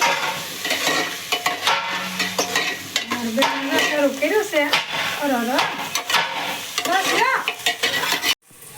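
Spice tempering sizzles in a hot pressure cooker with steady stirring and scraping up close, while someone talks over the crackling.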